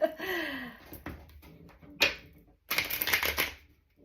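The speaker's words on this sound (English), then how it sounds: "I feel like I gotta do one more shuffle" A deck of tarot cards is riffled and shuffled close by in a few quick, crisp bursts of flapping card noise separated by brief pauses, with a soft voice at the start.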